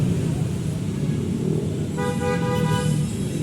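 Busy street traffic in Novaliches, with a steady roar of passing vehicles and a car horn tooting in a short series of honks near the end, fairly close.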